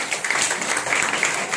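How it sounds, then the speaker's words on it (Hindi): A seminar audience at an AIDS control committee event claps steadily for those on stage, a continuous even patter of many hands at moderate loudness. "मैं एक बार मंच के लिए जोरदार ताली चाहूंगी।"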